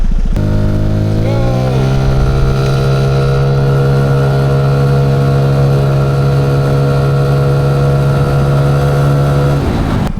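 A vehicle fitted with a Prodigy CVT set pulls away from a standstill at a stoplight, its loud engine drone climbing steeply in pitch over the first two seconds, then holding a steady high rev for the rest of the run.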